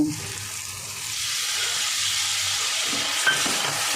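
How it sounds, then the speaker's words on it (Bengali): Potatoes stirred into frying masala with a little water, a steady close hiss and sizzle that swells after the first second, with low scraping stirs and a small clink near the end. "আলু দিয়েও আমি মশলাটা আর একটু কষাবো।"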